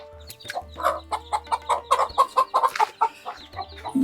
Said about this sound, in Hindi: मुर्गे भी, और देखो छोटे छोटे बच्चे वो हो।